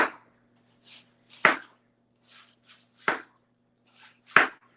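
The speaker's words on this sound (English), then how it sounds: "put it back down on the counter, and just start cutting into slices this way" Knife slicing a watermelon into pieces on a kitchen counter: three sharp, heavy chops at a steady pace, each preceded by softer rind-scraping sounds, close and clear with no talk.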